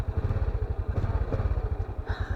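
A tricycle motorcycle engine idles close by with a steady, fast low putter and a mechanical clatter throughout.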